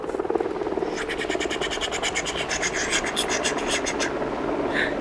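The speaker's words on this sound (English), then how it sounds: "It was a helicopter" A helicopter's rotor chops rapidly and steadily overhead, a loud pulsing whir mixed with scratchy rustling noise.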